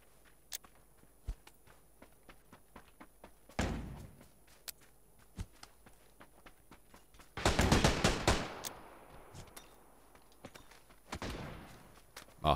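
Shotgun blasts in a video game punctuate a quiet scene of footsteps and clicks, with a heavy cluster of shots near the middle and a few isolated booms elsewhere.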